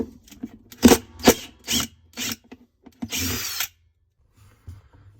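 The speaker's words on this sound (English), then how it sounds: "Now we got to remove all the screws around the hub." A power drill runs in several short bursts, then one longer burst, while taking out the screws around the hub of a washing machine, close and loud with brief pauses between.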